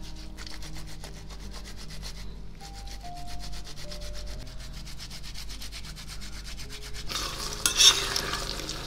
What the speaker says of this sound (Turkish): Hafif hafif pişerken ben o 1 adet domatesimi rendeleyeceğim.